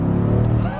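A Mercedes-AMG GT C engine hums with a deep, steady tone for under a second before easing off slightly, close and loud, with no talk.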